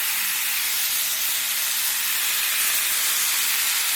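Carne asada steak sears in a hot pan with a steady, loud, close sizzle that holds evenly the whole time and has no talk over it.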